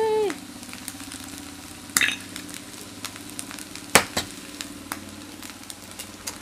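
An egg frying in a pan while making bibimbap, a steady soft sizzle near the mic broken by a few sharp spatula taps and clicks, with a faint low engine-like hum from an open window.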